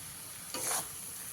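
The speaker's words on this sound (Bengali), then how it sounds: "এবার আলুটাকে ভালো করে মশলার সঙ্গে মিশিয়ে দিতে হবে" A single short scrape of a spoon through mashed potato and spices in a pan, quiet and close, surrounded by faint background hiss.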